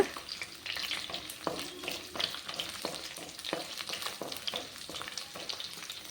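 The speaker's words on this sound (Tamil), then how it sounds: "பூண்டை நல்லா எண்ணெயில் வதக்கி விடுங்க" Garlic cloves sautéing in oil in a clay pot for a village-style brinjal kara kuzhambu, giving a steady close crackling sizzle with occasional stirring clinks and scrapes and no talk.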